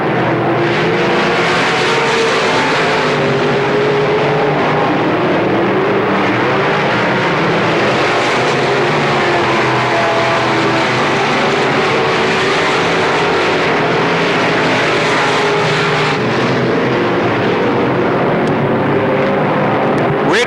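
Race cars roar around the PPMS dirt track at a regular 1994 event, a dense, continuous engine drone with overlapping motors sliding through the turns at steady loudness, no voices over it.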